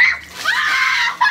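Ice water splashes down over a boy's head, a loud splatter followed by a sustained high, shrill scream lasting about a second, then a brief second yelp at the end.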